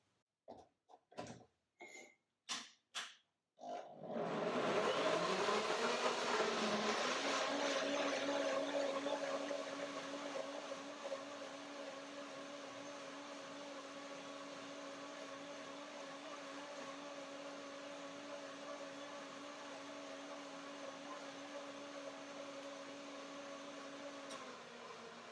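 After a few short clattering knocks, a blender making mango lassi whirs to life loudly and keeps running steadily at a constant pitch for a long stretch.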